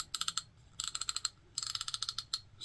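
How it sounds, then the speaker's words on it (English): The drag on a Penn Spinfisher VI 6500 spinning reel clicks in quick, faint ratcheting bursts, three runs of rapid ticks separated by short pauses, heard alone. "Also has an audible click on the drag."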